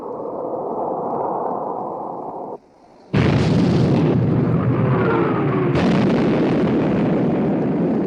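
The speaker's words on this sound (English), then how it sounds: "Torpedo hit amidship, sir." A torpedo strikes a warship amidships in the 1960 naval war film Sink the Bismarck!: after a brief hush, a sudden massive explosion erupts into a loud, sustained roaring rumble that swells again moments later.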